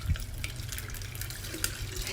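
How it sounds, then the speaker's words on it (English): Pineapple kiwi lemonade with fruit slices is poured into a glass nearby, a steady trickling, splashing stream that runs continuously with a low fill gurgle and no talking. "now I am ready to pour the delicious pineapple kiwi lemonade"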